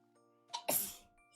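A single sharp human sneeze, a brief inhale followed by a loud burst that trails off quickly, close and alone against a quiet background.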